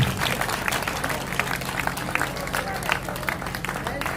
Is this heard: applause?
yes